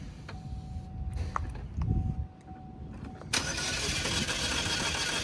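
A 2010 Chevrolet Equinox with a fuel supply problem cranks with a rapid starter whir over several seconds, then catches and roars into a loud, steady run close by.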